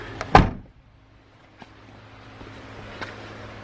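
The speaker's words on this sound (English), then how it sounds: "Close this door." A single solid thunk of a car door shutting on a 2JZ-swapped Mazda RX-8, followed by quiet and a couple of faint clicks.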